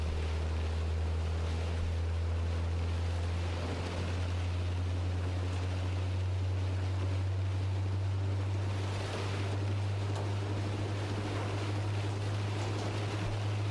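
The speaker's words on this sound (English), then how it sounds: "There's part of this engine noise that just makes it sound like you've perpetually got a puncture" A vehicle engine in the storm-chasing game OUTBRK drones as a steady, loud low hum with a rumbling, flapping texture, continuous throughout with a faint wash of wind noise above and no talking.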